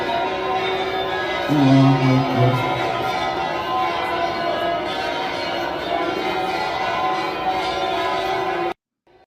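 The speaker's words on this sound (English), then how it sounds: "The cathedral responded by ringing its church bells." Cathedral bells ring out with a steady, resonant peal, heard from a distance over a murmur of outdoor noise and a crowd of protesters.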